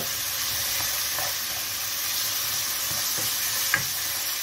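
Porcini mushrooms sautéing in a pan, a close steady sizzle with a few soft stirring scrapes and one sharp tap near the end.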